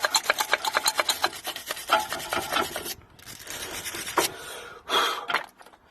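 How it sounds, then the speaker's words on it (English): A wire brush scrubs an Audi A1 brake caliper during a pad change, first in quick rhythmic back-and-forth strokes, then in rougher, more continuous scraping, close and moderately loud. "A little bit of wire brush so the pads slide easier"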